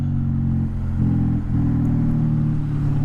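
A Honda Magna motorcycle engine idles with a steady low rumble and brief dips in pitch, running loud and close throughout.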